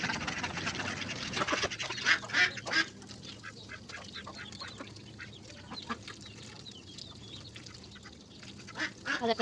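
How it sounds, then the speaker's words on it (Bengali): Village ducks eat rice mixed with a little paddy, with quacks and rapid dabbling, pecking sounds close by and some voices in the background. "হাঁসগুলা দেখেন কি সুন্দরভাবে খাচ্ছে"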